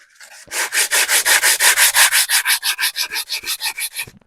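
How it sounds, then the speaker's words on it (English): Close, rhythmic back-and-forth rasping of WD-40-wetted sandpaper on the metal of a 1921 Lister TM stationary engine flywheel, about twenty even strokes that start strong and gradually soften before the rubbing stops. "bit of WD on the sandpaper just to help"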